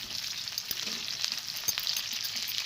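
Onions sizzling in hot oil in a pan, a steady, fairly quiet crackling fry with light stirring clicks and no voices.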